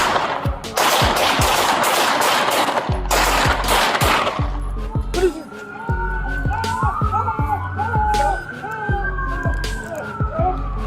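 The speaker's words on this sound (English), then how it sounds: "2-8, shots fired, shots fired." Rapid gunfire rings out in a police confrontation, a dense burst of close, loud shots followed by scattered single shots beneath a wailing police siren.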